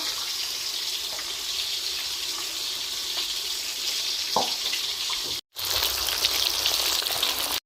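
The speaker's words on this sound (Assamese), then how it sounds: "অলপমান আঞ্জা আছিল মাছ ফ্ৰাই কৰি আছোঁ" Fish frying in a pan in a home kitchen, making a steady broadband sizzle throughout, with a brief cut near the end where the sound drops out before the hiss resumes, loud and close with no talk.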